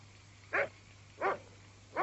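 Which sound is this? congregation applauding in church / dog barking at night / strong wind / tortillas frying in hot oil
dog barking at night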